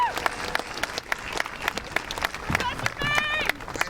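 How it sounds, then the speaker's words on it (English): Audience applause at a college commencement ceremony, a dense wash of clapping with some cheering and whistles rising near the end, loud and close, with voices in the crowd. "Let's give them a round of applause."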